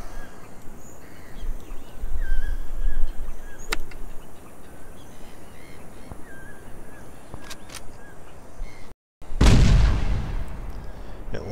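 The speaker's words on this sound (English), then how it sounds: "Then fires you from that cannon over to here." A cannon in the Tower Unite minigolf game fires and launches the player, giving one loud, sudden broadband blast after a brief silence, over a steady background of game ambience and scattered honks.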